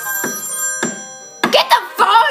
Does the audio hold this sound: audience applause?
no